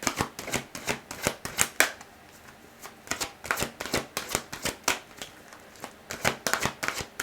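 Tarot cards being shuffled, rapid riffling bursts of crisp papery flicks in irregular clusters, close and alone without speech.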